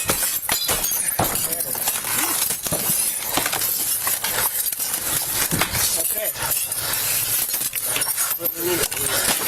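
Glass shatters and crashes in repeated bursts during a police rescue of a family trapped inside a burning house, with urgent voices talking over the breaking throughout.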